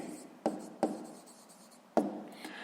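Pen or chalk writing down a math solution, a few sharp taps of contact followed by short scratchy strokes, quiet and close, with a faint voice in the background.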